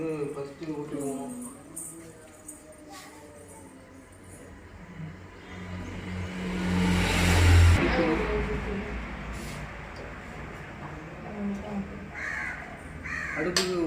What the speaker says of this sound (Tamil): காக்கா நம்ம முன்னோர்கள் வந்து சாப்பிடுவாங்க